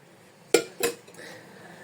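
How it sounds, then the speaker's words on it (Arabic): Cubed eggplant drops into a metal pressure cooker pot, giving two sharp, close clanks about a quarter second apart, followed by faint rustling in an otherwise quiet kitchen. "خديت طنجره ديال الضغط ودرت فيها هاد الدنجال اللي قطعته على شكل مكعبات"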